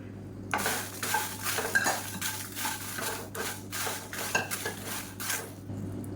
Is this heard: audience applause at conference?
no